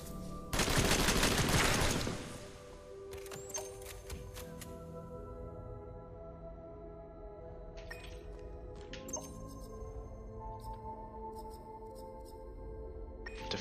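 Automated defense turret in the game Earth Defender unleashes a loud, dense burst of rapid fire lasting over a second, followed by scattered lighter clicks and mechanical ticks.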